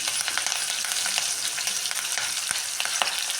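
Curry leaves and chopped onion sizzle in hot oil with mustard seeds and cumin, a steady close frying hiss with faint crackles and occasional stirring scrapes, no voices over it, while cooking hitak bele sambar.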